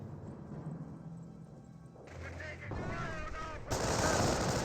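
Gunfire in the World War II strategy game Company of Heroes 1, with US rifleman squads and German infantry exchanging shots. The battle noise is dense and steady and swells louder in the final second.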